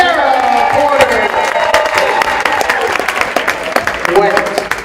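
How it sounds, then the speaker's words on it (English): A crowd at a JV volleyball game applauds and cheers for a player, dense clapping with whoops under a loud announcer's voice over a PA. "Give a big round of applause for number 23, Sarah Porter."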